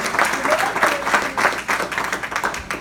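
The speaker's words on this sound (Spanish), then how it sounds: "Den un aplauso al Señor" A church congregation at a Spanish-language sermon claps for the Lord, a lively burst of applause with rhythmic surges, a few shouted voices rising above the hands.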